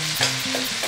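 Chorizo frying in oil in a pan for paella gives a loud, close, continuous sizzle with crisp spattering, while low hum tones shift in the background and nobody speaks.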